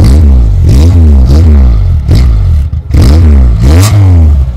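A 1991 Peugeot 205 Junior engine is revved repeatedly, about six sharp climbs and drops in pitch, loud and near, with a brief dip between bursts.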